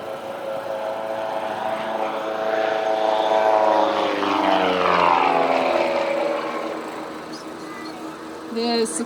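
A propeller-driven warbird makes a low pass at an airshow: a loud, sustained engine drone that swells as it nears and fades slightly as it passes, its pitch shifting, with a brief sharper burst near the end.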